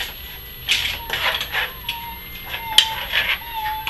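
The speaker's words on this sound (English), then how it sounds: "Stir it around." A spoon scrapes and clinks against a pan while a honey and brown sugar mixture for chicken thighs is stirred, giving light, irregular metallic taps with short pauses between them.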